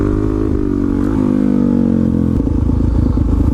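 A supermoto motorcycle engine revs hard and loud as the rider pops a wheelie in second gear, a sustained growl that rises and then breaks into a rougher, choppier roar near the end, with no talking.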